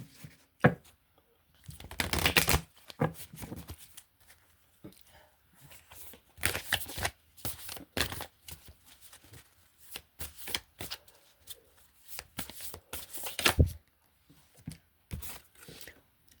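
Tarot cards being shuffled in repeated bursts, crisp riffling and flicking sounds close by, with short quiet gaps between rounds.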